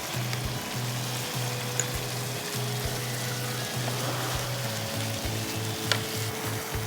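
Poppy seed paste fries in a pan for navratan korma, giving a continuous close sizzle with a faint crackle running through it, and a low rhythmic mechanical hum sits underneath; no voices are present.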